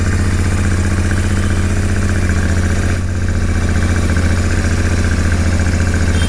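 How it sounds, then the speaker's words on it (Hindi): A Royal Enfield Continental GT 650 motorcycle with twin silencers idles steadily right after a self-start, its exhaust a close, loud, even low-pitched throb that holds unchanged throughout with no talking. "तो सेल्फ स्टार्ट करते हैं और इसका एग्जॉस्ट साउंड को सुनते हैं"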